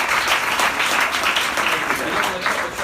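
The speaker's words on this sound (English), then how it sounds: "So can you please give a round of applause for Dave?" Audience applause at a motivational speech, a dense, loud and sustained wash of many hands clapping that stays even for the whole stretch.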